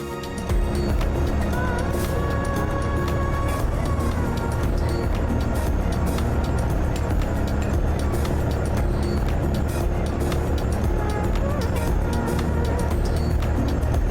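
Truck engine in Euro Truck Simulator 2, a steady loud drone with constant low rumble running unbroken throughout, mixed with a faint background music line.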